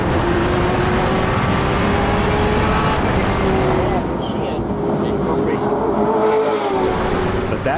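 Ford Mustang TA2 race car at World Wide Technology Raceway, its engine droning loud and steady from on board as it runs the track, with a commentator talking over it.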